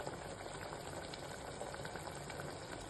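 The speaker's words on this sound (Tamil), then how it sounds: "ஒரு 2 நிமிஷம் கொதிக்கட்டும்." A pot of bottle gourd and tomato curry boils steadily, giving a continuous, fairly quiet bubbling with no voices over it.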